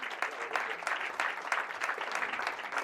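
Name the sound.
audience applause for Pedro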